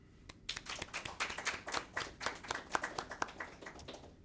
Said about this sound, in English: I think you guys owe yourself one big round of applause.